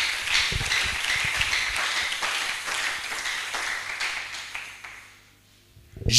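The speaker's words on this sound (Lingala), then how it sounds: "On acclame très fort pour Jésus." A church congregation applauds, loud and dense, with a crowd's clapping sustained for about five seconds before it fades away.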